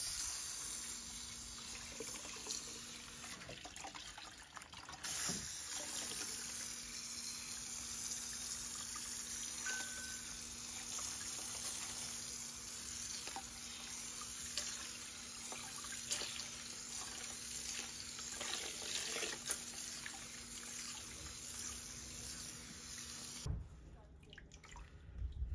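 Water flushing through an ITG panel air filter during cleaning, a steady broadband rush of running liquid that continues close and even for most of the stretch before cutting out near the end.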